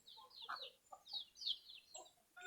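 Native hens cluck in short, close bursts from a new coop, several soft calls overlapping with brief pauses between them.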